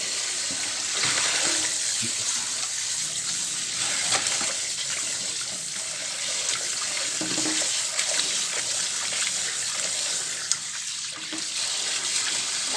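Tap water runs steadily into a sink while pork skin and bones are washed, a continuous broadband splashing flow at moderate level with small shifts as the meat moves under the stream, and no talk.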